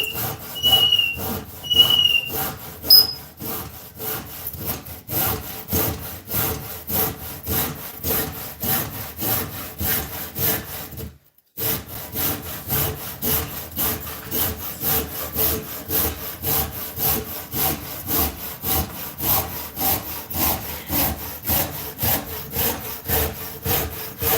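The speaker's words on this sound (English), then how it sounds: "just a handsaw" A handsaw rasps steadily through wood in quick back-and-forth strokes, close and continuous, with one brief pause midway.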